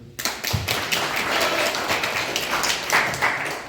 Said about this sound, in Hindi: एक वास्ता ताली बजा दो